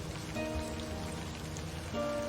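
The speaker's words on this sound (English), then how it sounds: "Raindrops splatter on the paper, leaving small, wet stains." Steady rain falls as a dense, even patter in the Livber: Smoke And Mirrors video game, with a low tonal music bed under it and no voices.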